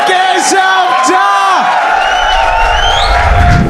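A talent-show audience cheers and whoops for a contestant, with rising yells and shouts over a steady crowd roar that stays loud and close throughout.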